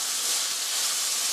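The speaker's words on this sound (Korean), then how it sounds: "양파가 투명해질 때까지 볶아주세요. 양파가 노릇노릇하게 될 때까지 볶아주세요." Onions stir-frying in a pan for a pork rice bowl, a steady close sizzling hiss that holds evenly throughout with no voices over it.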